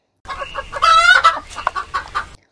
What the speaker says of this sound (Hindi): मुर्गा कुकड़ू कू करना।